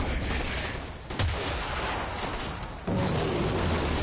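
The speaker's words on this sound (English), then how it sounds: "you can shoot past it while they're too busy shooting at it" Gunfire in the game Warframe, a dense continuous barrage of rapid shots with a sharper burst near the start and a louder surge toward the end, heard alone.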